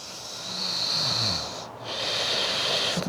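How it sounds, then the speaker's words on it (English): Long, slow, rhythmic breaths during a Vinyasa Flow yoga practice, two drawn-out airy exhalations close to the microphone with a brief pause between them, soft and unhurried. "Long, slow, rhythmic breathing."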